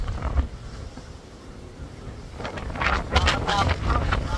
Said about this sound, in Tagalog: Oh, grabe ingay. Nakakatakot tuloy lumabas. Lakas na hangin eh.